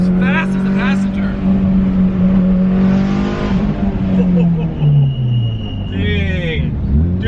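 A Nissan Skyline R32 accelerates hard with a loud, sustained engine roar heard from inside the car, its pitch climbing and falling through gear changes, while occupants talk over it.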